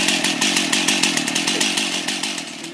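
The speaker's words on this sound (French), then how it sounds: "et on démarre la scie." Chainsaw engine running loud and steady after starting, with a rapid pulsing idle rumble and a bright mechanical rasp throughout, no voices.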